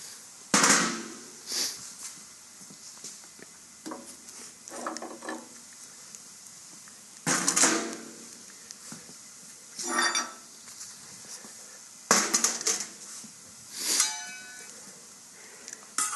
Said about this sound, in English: loosen the thumb screw and then just pull straight out